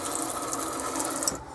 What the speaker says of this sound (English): when you turn the tap this way,